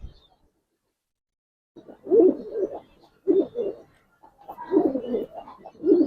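A pair of Giribaj pigeons offered for sale coo close by in three or four throaty bursts separated by short silences, with no talk over them.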